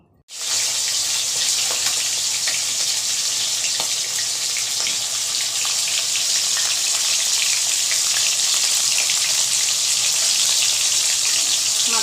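Pieces of katla fish head frying in a kadai, a steady loud hiss and crackle of hot oil that starts abruptly and continues without a break.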